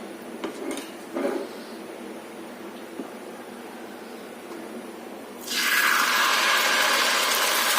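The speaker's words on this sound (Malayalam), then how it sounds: "ഇനി നമുക്ക് അതിലേക്ക് മാവ് ഒന്ന് കോരി ഒഴിച്ചു കൊടുക്കാം" Rice-flour dosa batter hits an oiled hot pan and breaks into a loud, steady sizzle after a few quiet clinks of utensils.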